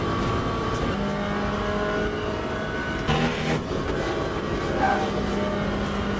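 Corvette Z06 LMGT3.R race car engine lapping Spa in the Le Mans Ultimate racing game, a sustained droning engine note with a couple of quick gear-shift changes in pitch, alone without talk.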